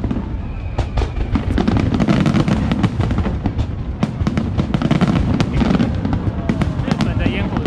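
Fireworks show at Dadaocheng Wharf: dense, continuous bursts of booms and sharp crackling pops, loud and close, with crowd voices mixed beneath the barrage.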